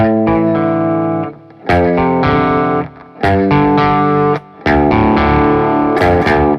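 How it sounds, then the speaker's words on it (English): Heavily distorted electric guitar plays a chugging power-chord riff, loud and close, in choppy bursts separated by short gaps. "power chords on 7, 3, 5, 0, and you're picking out 7, 7 open."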